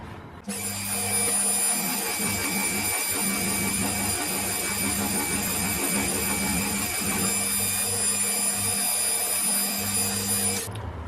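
Steady machining noise from a cutting pass on a model steam engine part, a continuous loud whine with high tonal lines starting abruptly and running about ten seconds before stopping, with no talk.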